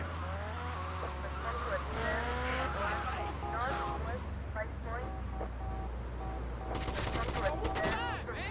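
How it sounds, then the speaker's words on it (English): Car collision in GTA Vice City as a vehicle rams a police car, with revving engine, skidding and crash impacts alongside game music and sirens, fairly loud and continuous. "Let's see if I can pit him and cause him to crash again."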